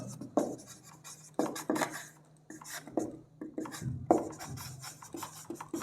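Chalk writing a formula on a board, a run of scratchy, rasping strokes and taps in irregular bursts, close and moderately loud.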